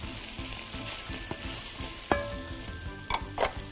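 Vegetables stir-frying in sesame oil, a dense close sizzle with scraping stir strokes and a couple of clinks from a utensil near the end, no voices.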